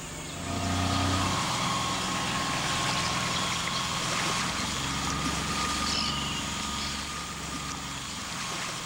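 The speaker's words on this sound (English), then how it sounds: "The sound of the outboard tells the crocodiles we're coming" Outboard motor on a small boat in Australian crocodile country drones steadily and loudly throughout, a constant engine roar with no voices.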